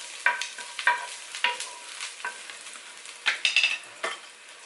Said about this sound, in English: We're gonna give this a little stir.